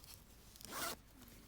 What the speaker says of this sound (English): Now I close the zipper